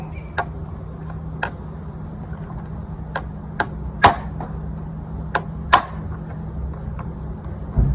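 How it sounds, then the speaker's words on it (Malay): An impact wrench loosens a stubborn screw during a radiator and Denso fan motor replacement on a Perodua Viva, giving sharp intermittent bursts and clicks over a steady hum in a workshop. "Kita buka dengan impact."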